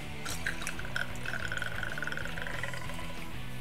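Citrus vodka is poured into a cocktail mix for a Chilltini, a short, steady liquid pour with glassy trickling that runs for a few seconds under light background music.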